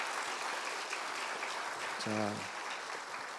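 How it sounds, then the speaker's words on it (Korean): Steady, dense applause from a church revival meeting audience, continuous throughout, with a brief spoken word cutting in partway. "우리 한번 힘차게 박수 쳐주시죠"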